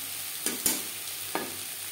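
Eggplant pieces cook in a pan on a gas flame turned low, giving a soft, steady sizzle broken by three brief scraping stirs.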